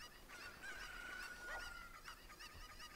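Cucco chickens cluck and squawk in the Zelda Ocarina of Time video game, a faint, honking, goose-like call repeating over low game background noise.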